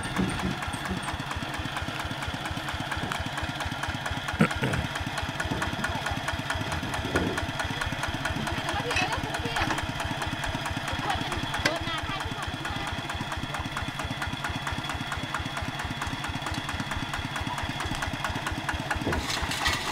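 A small farm tiller's engine of roughly 10 to 15 horsepower idles in a northern Thai village, a steady, fast, low chugging thump that continues evenly for twenty seconds at close range, with occasional louder knocks.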